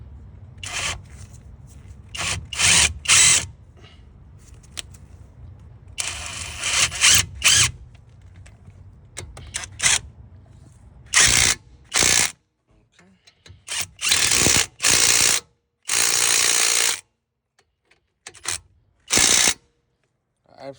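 A power tool tightens the brake caliper screws on a 2016 Chevy Malibu during a front brake job, whirring in a series of short loud bursts separated by quiet pauses.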